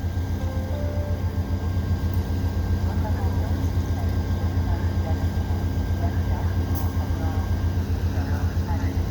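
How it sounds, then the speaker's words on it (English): A Via Rail passenger train with Budd coaches rumbles steadily nearby through winter snow at Dorval, with a continuous low drone, rhythmic rolling noise and faint higher whines throughout. "This will be the first passenger train of the year for me."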